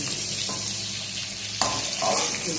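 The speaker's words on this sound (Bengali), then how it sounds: "এই যে এক পাশে যে তেল রয়েছে এর মধ্যেই আমি কালো জিরাটা দিয়ে দিলাম" Nigella seeds sizzle as they hit hot oil pushed to one side of a pan of frying potatoes, a steady close hiss with a brighter crackling surge partway through.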